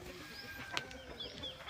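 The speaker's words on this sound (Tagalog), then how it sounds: "Isa sa matandang manok ko." An older Shamo Aseel gamecock rooster, a champion fighting bird in the Philippines, gives a few soft, short clucks, close but quiet, against faint outdoor background noise.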